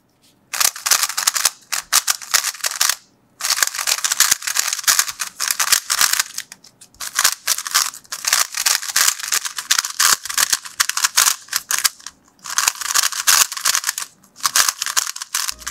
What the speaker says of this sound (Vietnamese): Và đây là tiếng của Cube khi xoay.